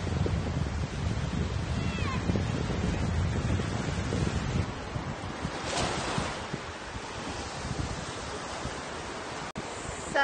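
Sea waves wash onto the beach at Calpe, a steady broadband surf roar with gusty wind buffeting the microphone throughout, no voices present.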